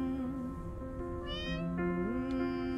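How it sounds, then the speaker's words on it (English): A cat meows in the video game Copycat, several drawn-out wavering meows in a row, clear and close against a soft background of game music. "I can just meow."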